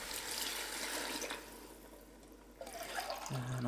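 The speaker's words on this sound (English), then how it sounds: "I'll just rinse out the can with some water." Tap water running into an empty tomato can while rinsing it out, a continuous splashing flow that quietens, then resumes with a hollow filling tone near the end.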